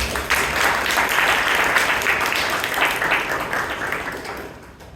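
An audience at a Toastmasters club meeting in Bangalore gives a warm round of applause, dense clapping that starts abruptly, holds steady and then gradually thins out.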